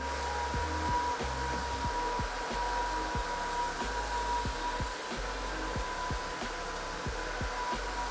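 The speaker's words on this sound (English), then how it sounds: "You can hear the vacuum motor working, scrubbing the floor." A steady electric motor hum from an iMop electric scrubber runs throughout, with faint regular knocking or ticking underneath as the machine scrubs across the floor.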